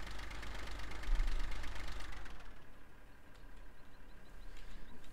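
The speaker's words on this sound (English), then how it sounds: "let's just empty this baler" A tractor engine idles with a steady mid-pitched hum and knock while a baler is emptied in Farming Simulator 15, loud at first and then settling quieter.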